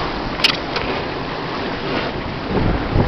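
A sailboat running briskly at about hull speed on the way to Desolation Sound, with steady wind rush buffeting the microphone over continuous water and wave wash, and a brief splash or knock near the start.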